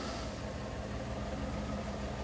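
A car engine idles with a steady, even low rumble, continuous and fairly faint, with no talk over it.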